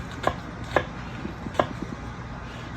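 A kitchen knife slices onion into thin julienne strips on a cutting board, giving about five soft, evenly spaced cuts that sound close and fairly quiet, with no talking.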